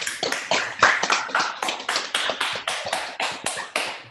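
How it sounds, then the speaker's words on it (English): Hands clap in a quick, fairly regular rhythm for a few seconds, close and distinct, a small sparse applause for a singer in a virtual concert rather than a large crowd. "Can we give a big applause"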